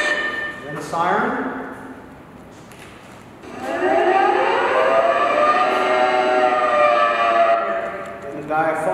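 A lighthouse fog siren at Piedras Blancas rises in a short wail, drops back, then swells into a long sustained howl that fades near the end, loud and fairly close.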